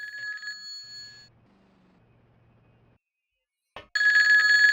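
Telephone ringing in the video game Grand Theft Auto 2: a short electronic ring at the start, a quiet gap with low hum, then a loud bright ring bursting in near the end, alone without talk.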